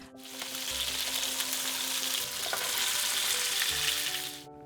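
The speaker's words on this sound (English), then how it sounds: "Can you still hear it sizzle?" Continuous hissing, spattering sizzle of salmon searing in a frying pan, fairly loud and close, with a low hum underneath and no talking.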